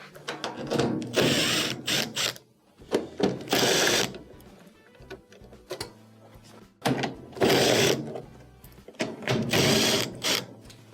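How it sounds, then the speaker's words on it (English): A power driver backs screws out of a washing machine panel in a repair, several loud whirring bursts with ratcheting clicks between short pauses, close up and alone. "there's a few screws that'll have to be removed"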